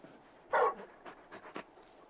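Torgal, the large dog companion in Final Fantasy XVI, panting in short breathy bursts, one louder huff followed by a few softer quick pants, close by and alone.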